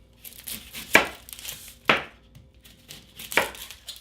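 A knife chops onion on a cutting board while prepping for sausage gravy, giving three sharp, separate thuds spaced about a second apart, close and clear in a quiet kitchen.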